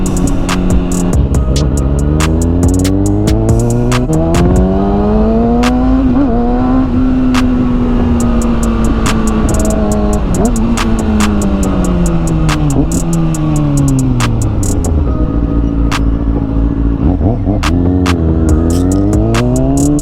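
A Kawasaki ZX-6R motorcycle accelerates hard on an open highway, its engine note climbing through repeated rising sweeps between quick gear changes, loud and steady throughout with no talking.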